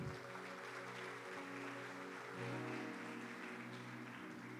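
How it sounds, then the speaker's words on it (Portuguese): Church congregation applauding, a dense, steady wash of clapping heard at a distance and fairly faint, with a sustained tonal hum from music or an organ underneath. "Aplauda ao Senhor."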